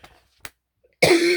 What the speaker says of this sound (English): oh, something made me cough